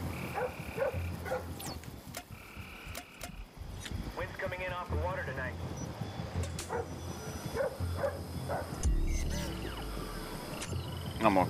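A dog in the Splinter Cell Blacklist video game barks and yips in short repeated bursts amid game noise, with people talking over it throughout.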